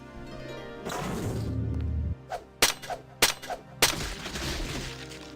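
Zero-recoil sniper rifle fire in the video game Deus Ex: three sharp, loud single shots spaced about half a second apart, following a rumbling stretch, with game ambience throughout.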